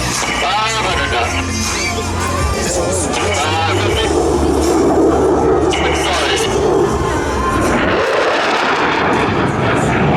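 F-16 Viper fighter jet making a high-speed pass at an airshow in Sacramento, a loud, sustained roaring jet rush that swells and shifts over about ten seconds, with an announcer talking over it.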